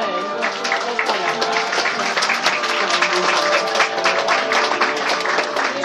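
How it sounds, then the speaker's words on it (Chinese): Guests at a wedding banquet applaud with dense, steady clapping from many hands that fills the whole stretch at an even level. "让我们掌声请我们的王爸爸先行入座"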